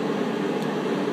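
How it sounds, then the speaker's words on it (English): A propane heater runs in a cold workshop, giving a brief, steady broadband roar at an even level with no other sounds. "I got the propane heater going because it's only 26 degrees out."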